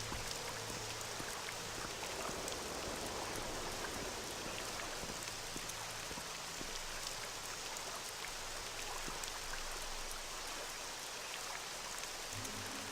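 Steady rain falling in The Elder Scrolls: Morrowind, a soft, even hiss of drops continuing unbroken with no talking.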